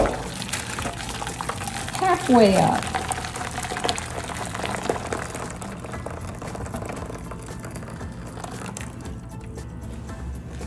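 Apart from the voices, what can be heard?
pouring boiling water into baking pan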